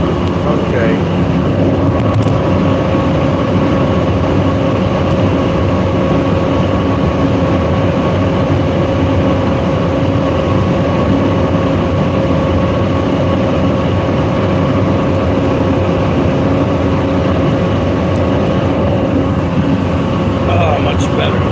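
A ferry's engine rumbles steadily on board, a constant loud low drone with a faint tonal hum running unbroken throughout, while a voice talks intermittently over it.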